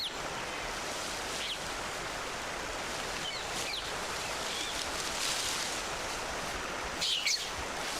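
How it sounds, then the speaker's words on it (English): A river in a forest habitat where macaques live flows with a steady, broad rushing wash, and occasional bird chirps rise above it. "A river is the first obstacle."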